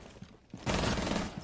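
A short burst of rapid gunfire from a Rainbow Six Siege 1v1 duel, a dense near fusillade kicking in after a couple of faint earlier pops, loud and alone.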